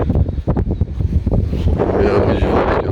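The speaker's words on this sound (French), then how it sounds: "On met à l'abri du vent parce que là," Strong wind gusts outdoors beside a camper van: a loud, rough rush buffeting the microphone, choppy at first and then a steady roar.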